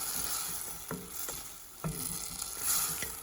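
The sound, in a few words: tomato puree cooking and being stirred in a pressure cooker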